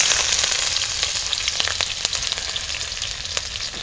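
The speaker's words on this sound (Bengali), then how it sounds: "তেল গরম হয়ে গেছে, তেলের মধ্যে থেতো করা আদা আর কাঁচা লঙ্কা দিয়ে দেবো" Crushed ginger and green chillies fry in hot oil for an aloo chop filling, giving a loud, continuous close sizzle with faint crackles scattered through it.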